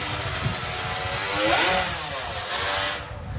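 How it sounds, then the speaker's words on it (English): Pro Stock drag racing motorcycles, Kawasaki and Suzuki machines, roar in a loud, sustained high-pitched engine scream that swells near the middle and cuts off at the end, with no talk over it. "This is how Pro Stock Bike would have been, and it is pretty much an all Kawasaki and Suzuki show"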